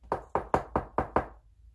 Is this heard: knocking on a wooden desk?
yes